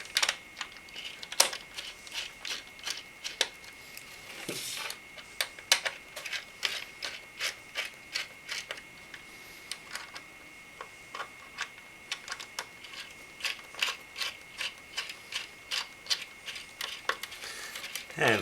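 Screws being turned in during installation of a Cooler Master Seidon 240M cooler, a rapid series of small close ticks and clicks repeating at an irregular rhythm over faint background hiss.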